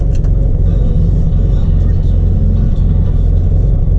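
A classic right-hand-drive Austin Mini engine idles loudly and gets a little gas, a steady close rumble with a slight lift in revs and no talk over it.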